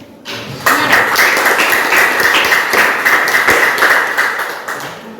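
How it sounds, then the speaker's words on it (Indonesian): Audience applause at a debate: sustained, dense clapping from a crowd that starts abruptly and holds steady for several seconds before easing slightly at the end. "Berikan tepuk tangannya"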